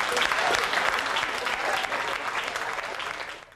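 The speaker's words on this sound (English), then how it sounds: "A round of applause for these great personalities of jazz." Audience at a 1996 Central Avenue jazz festival breaks into loud, dense applause, a full crowd clapping steadily and tapering off near the end.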